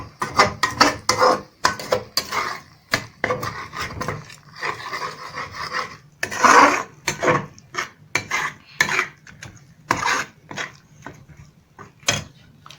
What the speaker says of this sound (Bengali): হলুদ গুঁড়ো, নিয়ে ভালো করে এবার এটাকে মিক্স করব।